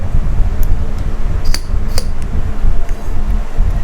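Pneumatic cylinders on a machine supplied by an air compressor cycle rapidly up and down, giving a few sharp metallic clacks and short air bursts over a steady, close mechanical hum.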